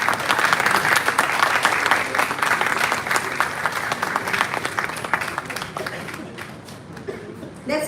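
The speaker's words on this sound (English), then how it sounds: "Let's continue with a huge round of applause." Sustained audience clapping at a university award felicitation ceremony, a loud crowd applauding steadily before gradually thinning toward the end, with faint voices underneath.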